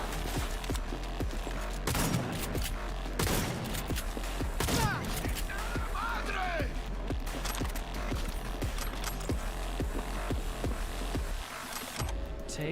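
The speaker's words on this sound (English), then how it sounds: "Shotgun." Shotgun blasts and rapid gunfire in a fast first-person shooter, a dense fusillade of loud repeated shots with mechanical clatter and pickups, continuous and close throughout.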